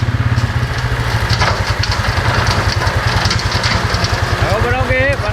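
A tractor engine running near a farm shop, a loud steady chugging idle with a rapid pulsing beat close by, and a brief rising whine near the end.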